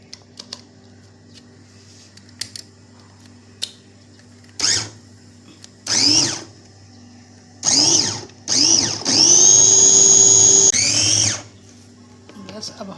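A kitchen grinder blends soaked lentils for dal kebabs in several loud whirring bursts, short at first and then one long sustained run, with quiet pauses between.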